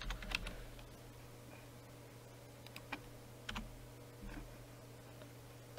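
An email address is typed on a computer keyboard in quiet, scattered keystrokes and clicks, soft and close, with irregular pauses over a low steady background hum and no talking.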